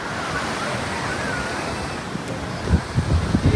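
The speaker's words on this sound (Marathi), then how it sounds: "हा असा आहे केळव्याचा समुद्र" Sea waves wash onto Kelva Beach in Palghar with a steady roar, mixed with wind buffeting the microphone; surges grow stronger near the end.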